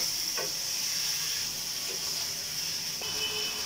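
Chicken pieces frying with spices in oil for a papaya chicken curry, a soft continuous sizzle and hiss with a few faint stirring clinks, no voices over it.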